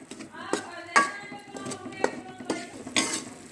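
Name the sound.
roasting and stirring rice flour in a pan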